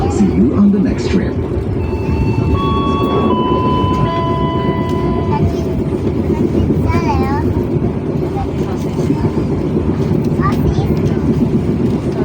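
Steady rumbling of the KA Sri Tanjung economy-class train running from Banyuwangi to Jogja, heard from inside the carriage, with a few faint tonal whines and passengers talking over the constant noise.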